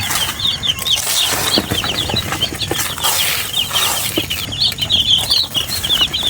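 Broiler chicks peep nonstop as a dense, high-pitched chorus of many birds close by, with soft rustling and scuffling among them and no talking.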